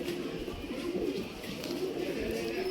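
A male Regdaru breed pigeon coos in soft, low, throaty rolls, fairly close over a steady murmur of background noise.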